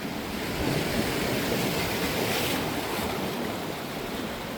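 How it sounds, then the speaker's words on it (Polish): Rough, stormy sea splashes onto Funtana beach near Poreč in Croatia, a loud, sustained surf roar that swells slightly and holds steady throughout. "Morze jest zburzone."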